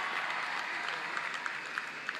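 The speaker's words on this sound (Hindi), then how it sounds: "जोरदार तालियां ललित के लिए।" Applause for hockey player Lalit Kumar Upadhyay at a ceremony for medal-winning athletes: a fairly faint, steady patter of clapping from an audience, with a few sharper individual claps standing out.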